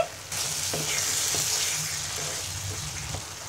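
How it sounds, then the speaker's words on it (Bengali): Five-spice powder is stirred into softened green mango pieces in a hot pan, a steady close sizzle with soft scraping stirs and a few faint bubbling pops. "এবার গলানো আমের সাথে ভালো করে নেড়ে মিশিয়ে নিব।"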